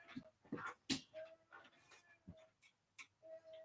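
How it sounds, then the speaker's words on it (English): A dog whimpers and whines in soft, repeated high-pitched cries with brief panting breaths, fairly faint and intermittent, with no talking over it. "Oh, a dog. I'm surprised because I can hear him."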